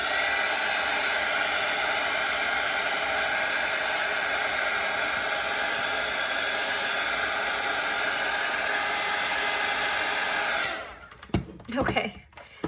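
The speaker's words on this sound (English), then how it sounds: "So I'm gonna dry everything on the egg just to make sure I'm not smudging anything." A hair dryer blows steadily up close, a loud continuous whooshing roar drying watercolour paint on paper for about ten seconds, then switches off, leaving brief soft handling noises.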